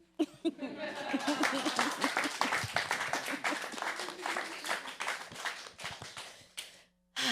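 An audience claps for several seconds in a dense patter, with scattered voices and a little laughter, before it stops abruptly.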